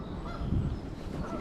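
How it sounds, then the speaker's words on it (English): Geese honk as they fly in over water where wood ducks and mallards gather in spring. The calls are moderately loud and blend into outdoor background noise, with no talking. "Geese are coming in."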